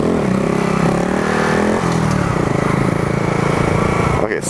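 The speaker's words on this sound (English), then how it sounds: "I'm still revving at 6000 RPM." A modded Honda Grom motorcycle with an upgraded oil pump revs hard at high RPM while riding, a loud, close, sustained buzzing engine drone that dips briefly midway and holds steady before cutting off sharply at the end.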